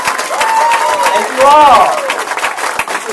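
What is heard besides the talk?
applause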